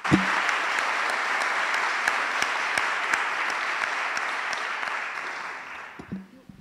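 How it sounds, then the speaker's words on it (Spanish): An audience at a seminar in the Supreme Court applauds, a sustained, dense clapping that holds steady for several seconds and then tapers off, with faint voices near the end. "quiero que le demos un gran aplauso a ella."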